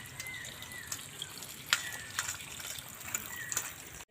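Tap water runs over a banana flower being washed by hand, a soft continuous trickle with intermittent splashes and drips, fairly close but quiet.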